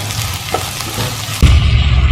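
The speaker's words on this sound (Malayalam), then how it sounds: "നമ്മുടെ മസാലയുടെ പച്ചമണം പോകുന്നവരെ നമുക്ക് നന്നായിട്ടൊന്ന് ഇളക്കി കൊടുക്കാം." Masala for Kerala mutton varattu fries in a pan, a soft sizzle with a couple of stirring clinks, then a sudden louder, fuller frying surge near the end.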